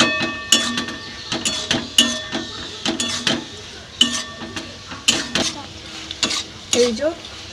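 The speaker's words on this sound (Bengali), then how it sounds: "তেঁতুলের টকটা দিয়ে একটু নাড়াচাড়া করে নিলাম 5 মিনিট মতো।" A tamarind mixture with curry leaves, mustard seeds and dried chillies stirred in a pan for sambar dal: rhythmic, close spoon scrapes and clacks repeating about once a second over a light sizzle.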